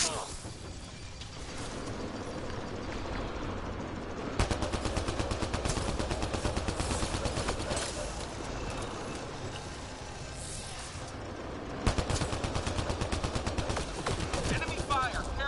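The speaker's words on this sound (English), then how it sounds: "Enemy fire. Careful." Enemy gunfire in Mass Effect: sustained rapid automatic fire crackling continuously, with sharp louder volleys around the middle and near the end, under game noise and voices talking.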